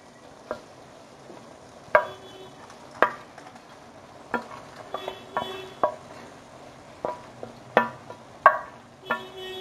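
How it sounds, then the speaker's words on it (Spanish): Beef fajitas with sliced onion and poblano chile strips fry on high heat in a pan, a low steady sizzle broken by a dozen sharp scraping clacks of stirring spread across the clip. "Ahorita los vamos a dejar a fuego alto para que se empiecen a freír muy bien"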